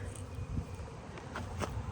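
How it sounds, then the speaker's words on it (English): Honey bees buzz around hives in a bee yard, a faint, steady hum with a few brief louder passes, alongside some quiet footsteps nearby. "The bees are busy."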